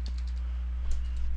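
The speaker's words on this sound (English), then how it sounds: "Here, I'll go ahead and type this and get it." Code is typed on a computer keyboard in a game editor as a quick, light run of soft key clicks, fairly quiet over a steady low electrical hum.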